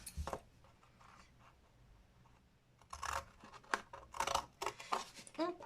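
Scissors snip through paper squares up to the first fold while making small desk storage boxes. After a quiet start, a run of crisp, close cuts comes in quick irregular bursts.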